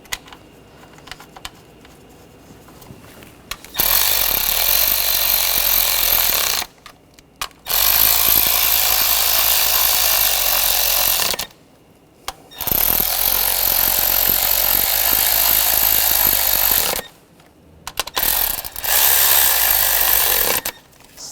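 Bursts of a power tool driving valve cover bolts down on a 2.0L four-cylinder Ford Escape engine, three long steady whirring runs separated by short pauses, close and loud.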